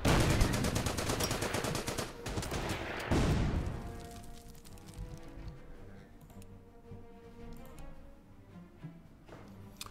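Rapid gunfire in the strategy video game Order of Battle as units attack Belgian bunkers: dense, loud volleys for the first few seconds, then thinning into scattered shots and distant battle noise.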